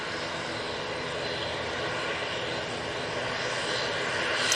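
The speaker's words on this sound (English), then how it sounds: "I think everyone are loving that departure there." An airliner departs from Manchester Airport, its jet engines producing a steady, fairly distant broadband roar that builds slightly toward the end, with no talking.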